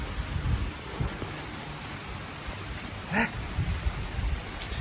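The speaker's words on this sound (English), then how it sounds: "Thunder, lightning." Heavy thunderstorm rain pours steadily in Pattaya, with low thunder rumbling underneath and a brief sharp crack partway through.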